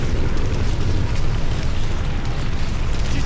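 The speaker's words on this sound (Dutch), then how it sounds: "Twee kanon, klaar om te vuren." Cannons fire in the Command & Conquer mod CNC Holland, a dense, continuous rumble of booming blasts that stays loud and unbroken, heavy in the low end, with no voices over it.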